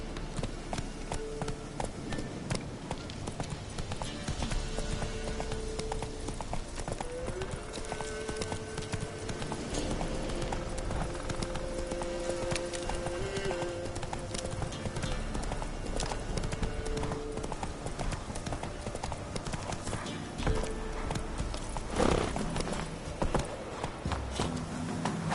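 In the Witcher 3 video game, a horse gallops steadily, its hoofbeats thudding in a continuous rhythmic clip-clop that runs the whole time at moderate level over game ambience, with no talk.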